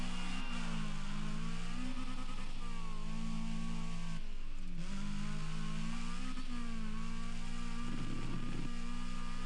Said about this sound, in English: car definitely feels a lot more competent now just with the engine upgrade.